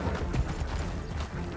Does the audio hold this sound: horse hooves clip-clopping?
yes